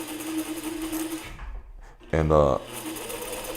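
Sewing machine stitching while someone learns to sew, a steady mechanical whir that fades briefly and returns, with a short burst of speech in the middle.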